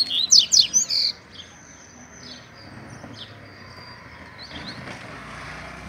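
Double-collared seedeaters (coleiro) give a quick burst of loud, bright chirps at the start, then fainter scattered calls over a quiet outdoor background.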